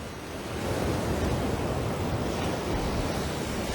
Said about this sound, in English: this surf here is very powerful in this section, in this cove